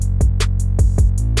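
Two layered open hi-hat samples from the BWB pack sit quietly inside a hip-hop beat, washing as bright sizzles in a steady rhythm over heavy sub-bass kicks, with no voices.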